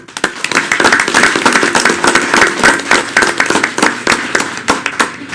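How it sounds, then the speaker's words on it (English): A city council meeting audience applauds with dense, steady clapping that builds quickly and continues loudly throughout. "So please give them another round of applause."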